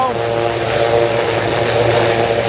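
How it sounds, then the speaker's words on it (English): A Sikorsky helicopter passes overhead above a New York City street, a loud steady droning rotor and engine roar filling the whole stretch. "A Sikorsky."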